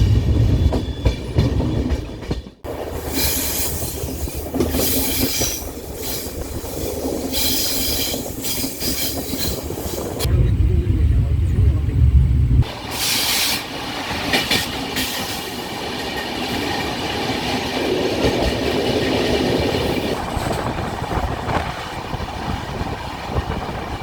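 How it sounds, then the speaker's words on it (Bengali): A Guwahati-to-Kolkata express train runs through Nalhati Junction without stopping, a loud continuous rumble of carriages with rhythmic clickety-clack and occasional wheel squeal, heard from on board. "আমাদের ট্রেন এই মুহূর্তে এসে উপস্থিত হলো নলহাটি জংশনে"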